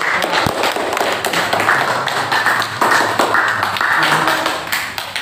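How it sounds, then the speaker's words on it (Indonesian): Classmates clap for a presenting group in a school classroom, a steady crowd of hand claps running the whole time at close range, with scattered sharper individual claps standing out. "Ya, beri aplaus untuk kelompok."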